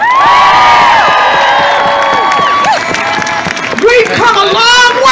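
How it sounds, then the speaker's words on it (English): A crowd at a Women's March rally in Milwaukee erupts in loud cheering, whoops and high shouts mixed with clapping, sustained and close for the whole stretch. "let's give them a round of applause."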